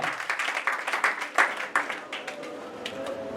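A church congregation applauds, many hands clapping in a dense, steady burst that thins and fades toward the end, with faint murmuring underneath.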